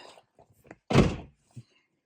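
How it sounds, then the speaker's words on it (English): A brief handle click followed by a single solid thunk of a Holden VF2 Calais car door closing nearby, with faint movement around it. "I'm going to check the door handle actually works."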